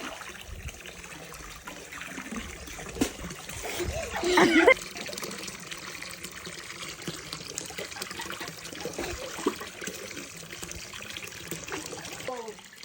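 Cold mountain spring water runs and splashes steadily close by, with a burst of louder splashing midway, while people talk and call out over it outdoors.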